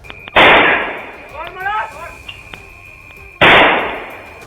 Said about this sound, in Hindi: एक आदमी एक गली में ताबड़तोड़ गोलियां चलाता नजर आया।